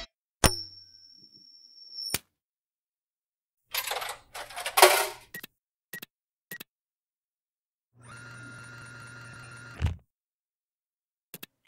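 In a cartoon, a toonie is dropped into a vending machine, giving a bright metallic clink and ring, followed by mechanical clunks, a whirring motor and a final thud, with separate sounds split by silence.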